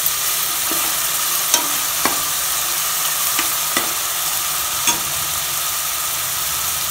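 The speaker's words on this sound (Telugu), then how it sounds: "ఆనియన్ కొంచెం గోల్డెన్ బ్రౌన్ కలర్ వచ్చేంత వరకు ఫ్రై చేసుకోవాలి." Onions frying in a pan for a dhaba-style chicken curry, a steady broadband sizzle with scattered sharp clicks of stirring, close and fairly loud, with no voices.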